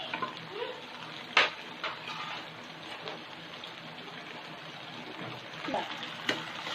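Soya chilli masala being stirred in a pan with black pepper powder just added, a soft steady sizzle running throughout, broken by a few sharp scraping clacks of the spoon against the pan.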